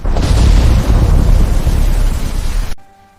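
A thunderstorm sound effect for an animated folk story, with loud, continuous rumbling thunder and heavy low-end booms over steady rain. It runs for about two and a half seconds, then cuts off abruptly into near silence.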